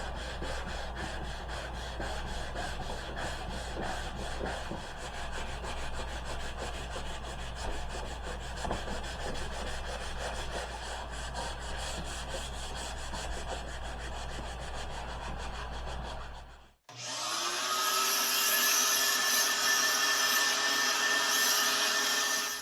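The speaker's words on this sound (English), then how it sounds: "I'll do a light sanding before I do any painting or staining." Light sanding of wooden dollhouse log cabin parts produces a steady, even scratchy rubbing that runs for a long stretch, then breaks off and gives way to a brighter, harsher abrasive whir.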